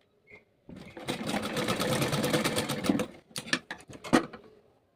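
A sewing machine stitching a lock on a kurti runs in a fast, steady whirring burst for about two seconds, then gives several shorter stop-start runs before falling quiet.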